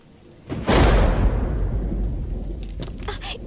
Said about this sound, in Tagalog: Nagiwa-hiwalay na naman ang florera dahil sa lakas ng ulan.